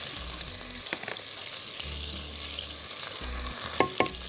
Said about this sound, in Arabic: هروح حاطه الجنزبيل والثوم برده دقيقه عشان ممكن يتحرقوا بسهوله.